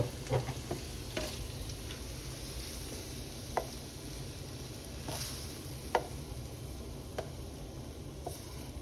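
Ground beef fries in a pan with a steady low sizzle, interrupted by a few sharp clicks and scrapes of stirring, close but fairly quiet, with no talking.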